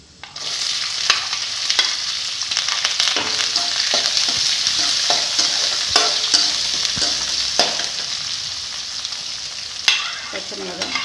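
Large onions sizzle and fry in a hot pan while being stirred, with steady crackling and frequent scraping clinks of the spoon throughout, close and clear.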